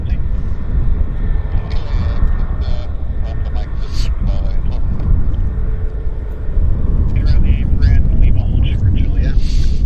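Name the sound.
corporate jet taxiing at Vancouver airport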